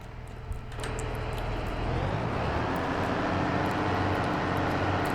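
A large brand-new New Holland articulated tractor engine running: a steady deep drone that swells up in steps within the first couple of seconds, then holds a constant loud rumble.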